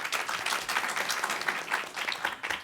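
Audience applause in a talk venue greets a speaker as she begins, a steady moderate patter of many hands clapping throughout, with no voices over it.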